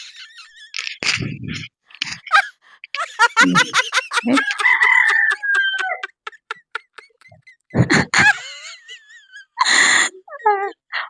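A rooster crows loudly several times in drawn-out calls, with clucking and other fowl sounds around it and brief gaps of quiet.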